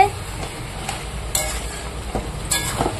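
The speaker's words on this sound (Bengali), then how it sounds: "ভালো করে এবার মাংসটাকে কষিয়ে নিই" Red, spicy Bengali chicken kosha is stir-fried in a pan: a steady sizzle with repeated scraping strokes of a spatula against the pan at irregular intervals, loud and close.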